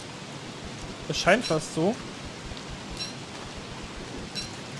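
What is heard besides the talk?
rain falling in the video game Don't Starve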